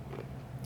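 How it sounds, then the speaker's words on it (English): Crunchy sugar candy eyeballs for Halloween treats are bitten and chewed close up, giving a quiet, brief crunching with soft grinding. "And they are crunchy, the eyeballs are."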